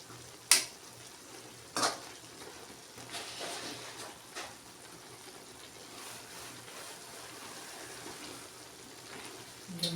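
Onions frying in a pan give a soft, steady sizzle, broken by a few sharp clinks of a utensil against the pan near the start and again later.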